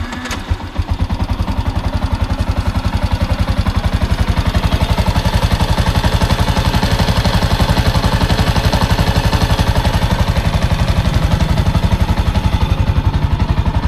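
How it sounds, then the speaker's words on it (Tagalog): A Yamaha Sniper motorcycle engine with a suspected clutch damper fault runs close and loud, sputtering briefly at first, then settling into a steady, rapid idle with an even rhythmic pulse and a faint rattle throughout. "Yan yung tunog ng makina niya."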